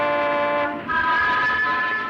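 A steam train whistle in a 1939 film sounds as a sustained, harmonic, chord-like blast that shifts pitch partway through. It is loud and close, with no talk over it.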